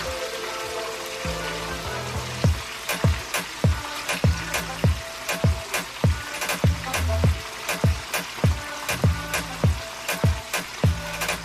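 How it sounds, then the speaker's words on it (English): Fish fries in oil for Jamaican escovitch fish, the oil crackling and sizzling continuously, punctuated by sharp regular pops and ticks. "After frying the fish for about 8 minutes on each side"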